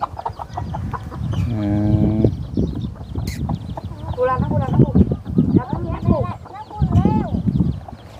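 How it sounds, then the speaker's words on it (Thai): A white chicken clucks and squawks in several short bursts, close and fairly loud, with bouts of rising, wavering calls through the middle and near the end, while people talk in the background. "ไก่ขาวเนาะหายากได้ไก่ขาวนี่"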